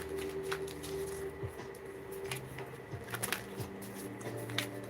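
A deck of energy reading cards is being shuffled, with soft repeated riffles and brief crisp card snaps coming close and fairly quiet over a steady low hum, and no voice heard.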